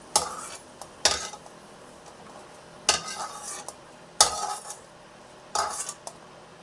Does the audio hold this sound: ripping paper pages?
no